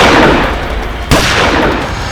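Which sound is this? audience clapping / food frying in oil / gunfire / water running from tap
gunfire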